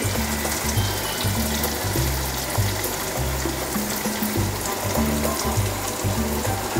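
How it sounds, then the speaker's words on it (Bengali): Palm fruit fritters deep-frying in oil, a steady dense bubbling hiss running without a break, close and fairly loud, with low droning hum pulses underneath and no talk. "এরকম ডুবো তেলে ভেজে তুলতে হবে।"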